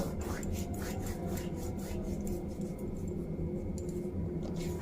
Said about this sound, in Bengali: জোয়ানটা আমি একটু ঘষে দিয়ে দেব